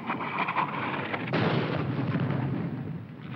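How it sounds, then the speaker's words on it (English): Artillery fire in a 1951 World War II film battle scene, a dense continuous barrage of booms and bursts that swells louder partway through, with no clear pauses. "Where's that Jap artillery?"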